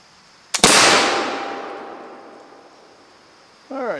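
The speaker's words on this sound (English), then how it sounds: "I'm going to aim at the center of Steel Steve, just to get an idea of where that buckshot's going" A Pedersoli Queen Anne flintlock pistol fires a buckshot load: a single loud, close report with a long ringing decay, followed by a brief voice near the end.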